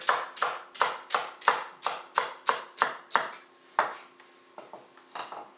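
A knife rough-chops celery on a cutting board for carrot ginger soup: about a dozen crisp, evenly paced chops land up close and loud, then slow into a few scattered cuts with no talking.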